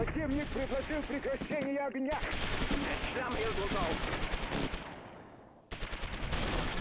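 Bursts of MG-42 machine gun fire in the World War II game Close Combat III, rapid rattling volleys starting and stopping in several runs, with someone talking over the firing.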